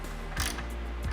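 A ratchet tightens 11 mm bolts on a Roam awning bracket fitted to a Toyota 4Runner, with a quick run of close, crisp clicking pawl ratchets.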